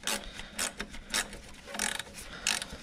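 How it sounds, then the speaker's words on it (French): A wrench ratchets to tighten the 10 mm screw on a car's timing belt tensioner, quiet clicking strokes in uneven bursts at close range. "On va juste venir donc serrer la vis."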